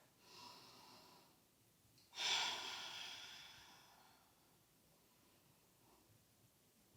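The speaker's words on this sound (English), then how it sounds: "Breathing." A slow, audible breath during a gentle yoga flow: a soft exhale, then a louder rushing breath that swells and fades away. No voice is heard over it.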